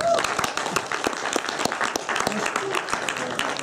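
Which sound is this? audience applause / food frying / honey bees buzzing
audience applause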